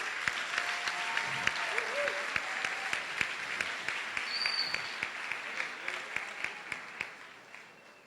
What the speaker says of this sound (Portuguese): Vamos aplaudir. Aplaude esse povo aí.